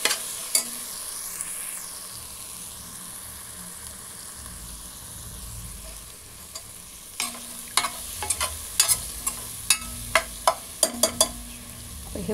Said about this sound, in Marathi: चला तर हे छानसं आपण परतून घेऊया